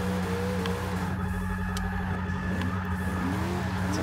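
A car drifting on the e-brake gives a steady, loud engine drone with faint tire scrubbing, close and continuous, with no voices.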